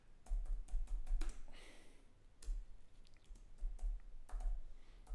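Typing on a computer keyboard, soft close keystrokes in short irregular bursts with pauses between them.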